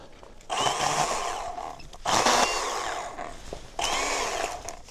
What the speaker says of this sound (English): Let's check out the chainsaw here.